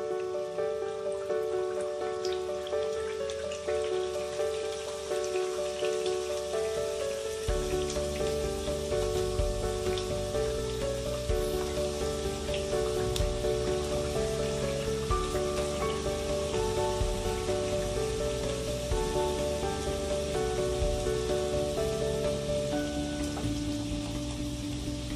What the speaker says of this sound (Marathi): आपण आता ह्या पुऱ्या तळून घेऊया कमी गॅसवर।